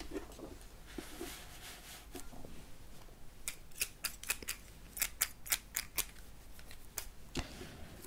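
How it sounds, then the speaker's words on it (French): Scissors cut into the packaging of a Pokémon Pokébox Mew V, a run of crisp, close snips that quickens into a rhythmic series, heard alone in a quiet room. "On va juste couper un morceau à ce niveau-là pour éviter de faire trop de bruit"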